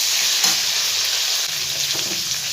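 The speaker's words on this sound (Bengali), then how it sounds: "এবার কাঁচা কলাটাও আমি দিয়ে দিচ্ছি, দিয়ে একটু ভালো করে একটু ভেজে ভেজে নেবো এটাকে আমি।" Papaya and raw banana pieces fry in hot oil in a pan, a dense bright sizzle that fills the whole moment with light stirring scrapes, close and fairly loud, with no speech.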